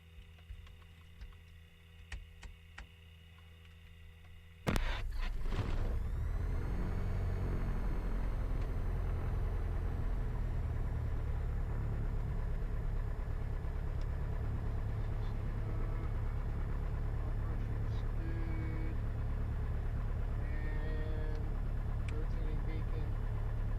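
A small single-engine training plane's piston engine cranks and catches with a sudden loud burst, then settles into a steady, droning idle as the propeller spins, with faint ticks and occasional voices over the engine.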